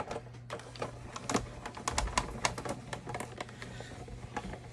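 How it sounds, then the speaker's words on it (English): A die-cutting machine runs a thin cut circle lattice die for a shaker card, giving rapid, irregular clicking and ticking at close range with no talk. "run it through the thin cut, or run it through the machine."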